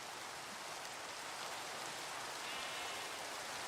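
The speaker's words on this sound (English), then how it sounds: "How do I lower the rain?" Rain falls steadily in Minecraft as a soft, even hiss of downpour, faint and constant throughout with no voices.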